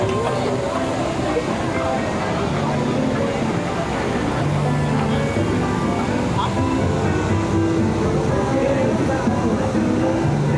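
Flowing, splashing water at Tiana's Bayou Adventure boat ride at Disneyland, a steady broadband wash with a low rumble, mixed with distant background music and crowd chatter throughout.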